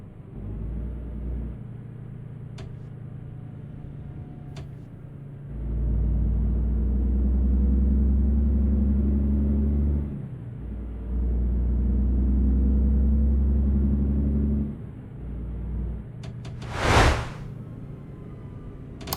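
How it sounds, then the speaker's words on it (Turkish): A Setra 517 HDH coach in Euro Truck Simulator 2 with its retarder engaged, deep droning rumble rising in two long sustained stretches, then a brief whooshing swell near the end. "Retarder sesimiz var arkadaşlar."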